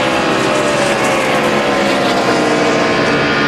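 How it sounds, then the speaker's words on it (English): Loud, continuous engine roar from a NASCAR stock car on the front stretch at the 2002 Pennsylvania 500, holding a steady drone with no clear break for a gear shift. "now on the front stretch, he's going to have to shift"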